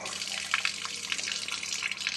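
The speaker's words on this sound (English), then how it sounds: "I'm getting a little water running here." Tap water runs steadily from a faucet into a sink during lab cleanup of fly culture bottles, a close, continuous splashing hiss with small gurgling fluctuations.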